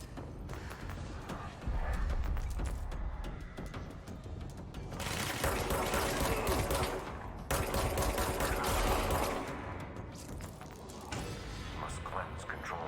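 In the video game Control, a submachine gun fires in loud rattling bursts, several spaced blasts of rapid fire over a busy game soundscape.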